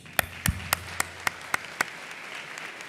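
About eight sharp, evenly spaced claps ring out at a university commencement ceremony, crisp and distinct over a quiet room, then fade into faint background murmur.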